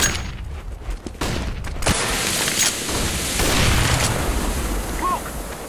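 A flashbang grenade going off in a Counter-Strike tournament match: a sudden loud burst cuts in, followed by a sustained wash of noise and ringing rumble that fades slowly.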